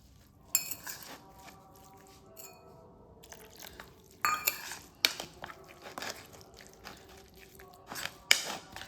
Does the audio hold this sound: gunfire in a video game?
no